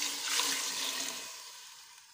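Water pours steadily into a pot of fried spices while mutton yakhni pulao is being made, a close, even hissing splash that is loud at first and slowly eases off.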